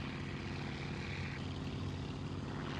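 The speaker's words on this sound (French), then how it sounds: "Un petit dernier virage à gauche en faisant confiance à son moteur." A model aircraft engine drones steadily as the plane flies a race course, holding one continuous, even buzz at moderate distance with no voices.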